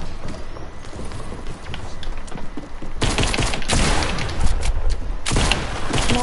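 Shotgun fire in a video game, a dense run of sharp blasts that starts sparse and grows louder and busier halfway through, with sustained clattering shots close by and no talking.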